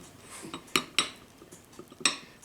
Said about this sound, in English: Okay, then we're going to give that a little stir.